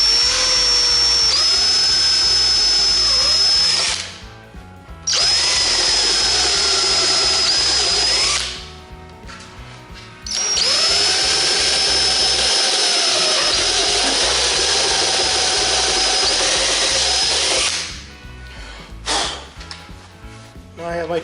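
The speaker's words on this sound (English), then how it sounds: "I'm going to use a step drill." A step drill bores holes for a Civic Type R rear wing, a loud steady whine running in long sustained bursts with short pauses between them, close up.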